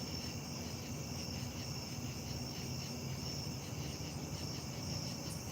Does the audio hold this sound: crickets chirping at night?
yes